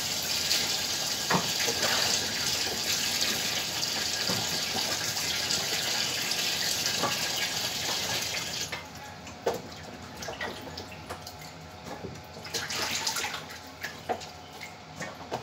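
Steady running warm tap water pours for several seconds, then gives way to lighter splashing and handling sounds as vegetables are rinsed.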